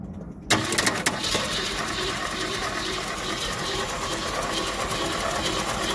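The engine of a 1973 Ford Mustang catches after a short crank and settles into a loud, steady roar close by.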